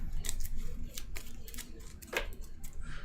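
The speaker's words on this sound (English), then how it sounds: "Shuffle everything up." A deck of cards from a DC superhero deck-building game is shuffled by hand, giving quiet, close rustling with scattered faint clicks.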